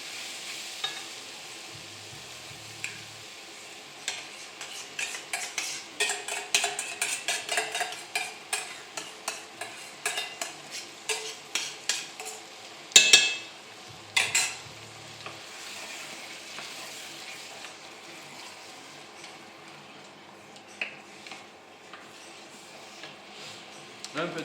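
A spoon stirs rougail saucisse, sausages with tomato coulis and bird's eye chili, in a cooking pot, giving quiet repeated scraping and clacking strokes over a soft sizzle, with occasional pauses.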